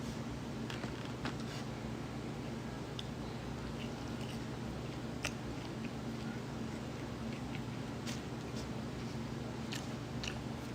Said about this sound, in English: I don't know why I'm chewing on one side.